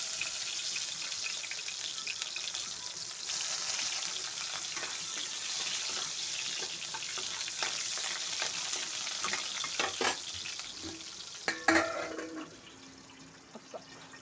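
Onion fries in a hot pan for a drumstick and tomato curry, a steady dense sizzle with a few stirring clatters near the end before it settles quieter.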